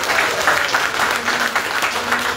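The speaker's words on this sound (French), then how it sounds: "je vous demanderai d'applaudir chaleureusement le projet porté par Abdourahim Rahilou Garderai." Warm audience applause rises at an entrepreneurship support ceremony, steady crowded clapping at close range with a faint voice underneath.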